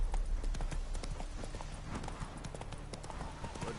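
Horse hooves clip-clop steadily in The Witcher 3, a quick rhythmic patter of hoofbeats at a trot, fairly close and continuous throughout, with faint game ambience beneath.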